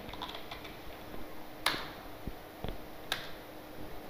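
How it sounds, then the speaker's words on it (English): A few sparse, sharp key clicks tapped on a computer keyboard, isolated and fairly quiet with pauses between strokes. "Now start typing the program."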